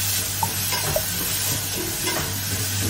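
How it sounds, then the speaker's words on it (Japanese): Vegetables stir-fried over high heat in a home kitchen, a steady close sizzle with scattered scraping stirs and light utensil taps across a few seconds, no talk. "強火で炒めてるので、"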